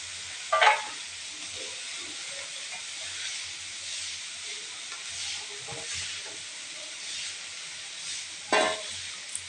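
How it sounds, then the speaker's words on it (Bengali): Capsicum and carrots frying and being stirred for a vegetable soup, a soft steady sizzle and hiss with a couple of brief louder scrapes of the spoon against the pan, close and without talk. "ক্যাপসিকাম দিয়ে খুব ভালোভাবে নেড়ে চেড়ে নিতে হবে"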